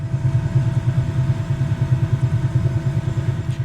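A throbbing Bell 222B helicopter engine drone in Microsoft Flight Simulator with a steady rapid pulse, low and continuous at moderate loudness, no speech over it.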